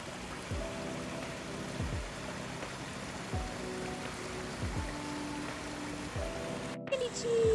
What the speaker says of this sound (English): I love running water.